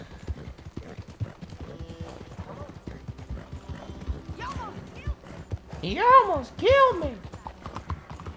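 A horse's hooves in the video game Red Dead Redemption 2 clip-clop in a steady close rhythm throughout, with a horse neighing twice near the end; someone talks over the hoofbeats.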